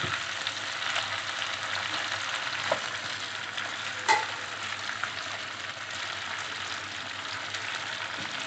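Chicken pieces fry in hot oil in a karahi, a steady close sizzle and crackle running throughout with no talk. A single brief louder pop comes near the middle.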